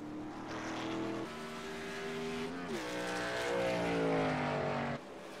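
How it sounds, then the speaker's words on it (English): Race cars roar around the Auto Club Speedway oval in a loud continuous engine drone, pitch sliding as cars pass, with a brief dip and surge midway and no talk. "As they race back around to catch up to the pit car or the pace car."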